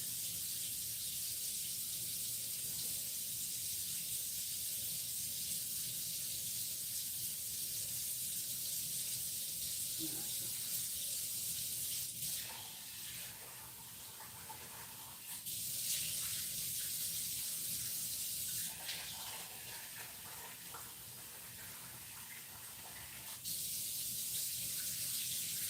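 Rice for Persian tajik-style crispy rice is rinsed under a running tap, a continuous close rush of water that briefly changes tone twice as the flow shifts, with no talking.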